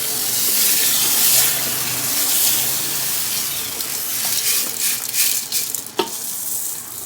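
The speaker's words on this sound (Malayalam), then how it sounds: "ആ അരി നമുക്കൊന്ന് ഇതിലിട്ട് കൊടുക്കാം." Washed rice for mutton biryani goes into a pot of boiling water: bubbling and splashing churn steadily, with a sharp clink of utensil on pot near the end, close by and without speech.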